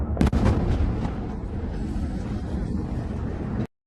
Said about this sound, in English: Sensational explosions blew up a car.